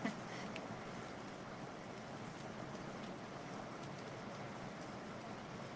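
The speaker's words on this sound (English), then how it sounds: "rain is really coming down" Heavy rain pouring down outside, a soft, continuous broadband hiss heard faintly and evenly throughout with no voices over it.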